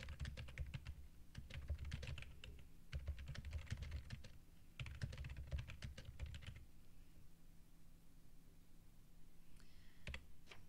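Rapid bursts of computer keyboard typing, close and clicky, come in several runs separated by brief pauses, then fade to a quieter stretch with a couple of isolated clicks near the end.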